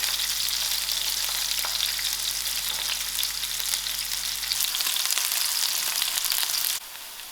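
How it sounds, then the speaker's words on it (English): Onions fry in a pan for a gram dhal and brinjal curry, giving a steady, close, broadband sizzle with small crackles that runs throughout with no talk. "I will allow these onions to fry"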